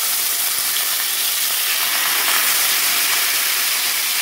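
Chicken legs shallow-frying in heated oil give off a steady, close hiss and sizzle that stays even and continuous throughout.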